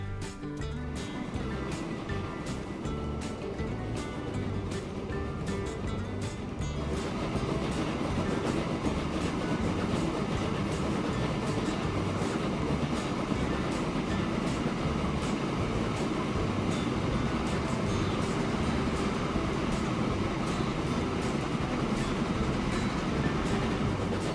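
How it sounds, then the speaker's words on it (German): A train running on rails in the video game Transport Fever, a continuous rumbling roll with repeated clickety-clack beats, steady and fairly loud throughout, swelling slightly after the first few seconds. "Ach, jetzt haben wir einen neuen Zug bekommen."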